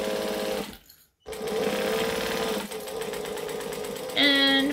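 Sewing machine backstitching a seam, a loud close whirring run that stops for a moment, restarts, then shifts pitch as the stitching direction reverses, with a voice faintly present.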